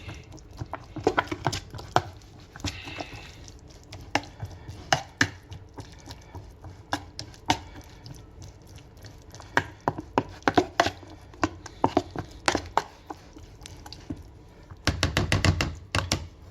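A spoon stirs Easy Mac and cheese with a bit of garlic powder in a bowl, producing a run of close, irregular scraping and tapping knocks that carry on steadily, with a denser burst of clatter near the end.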